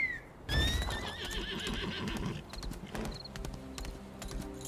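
A horse in the video game Lost Ark gives a loud, quavering whinny, followed by a second shorter neigh and scattered clip-clop hoofbeats over background game music.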